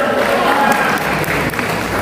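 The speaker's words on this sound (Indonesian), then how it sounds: "Oke, tepuk tangan buat kita semua." A crowd at a political party meeting in Indonesia applauds in a loud, sustained wash of clapping that fills the whole stretch, with faint voices mixed in.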